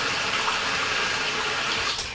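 Steady rush of water running into a fixture inside an RV, a continuous broadband hiss close by with no one speaking.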